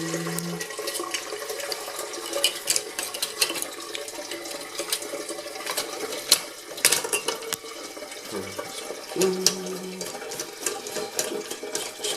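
Roca dual flush toilet cistern refilling with water after a flush valve replacement, a steady rushing and hissing fill with scattered splashes and clicks, close and continuous for the whole stretch, with no speech.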